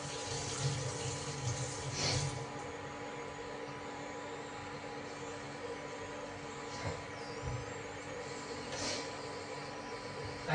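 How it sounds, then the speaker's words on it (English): Tap water runs steadily into a kitchen sink as cooking things are washed, a continuous close splashing flow with a few faint knocks, and no talking. "I'm just washing everything"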